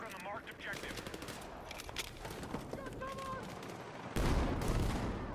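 Sniper rifle shots in the video game Battlefield 6, sharp cracks amid a dense firefight with distant automatic fire, loud and sustained, ending in a heavier blast.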